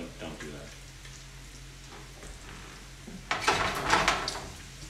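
Bacon and onions frying in a pan for carbonara, a moderate sizzle with utensil clinks that swells into a louder, brighter burst of frying toward the end.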